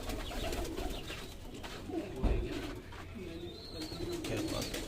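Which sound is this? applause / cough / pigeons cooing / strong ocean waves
pigeons cooing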